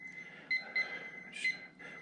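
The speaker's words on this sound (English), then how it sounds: "we're going to set our timer again to 45 minutes" Kitchen timer being set for bread baking, three short high electronic beeps spaced irregularly over a soft background hum, close and clear.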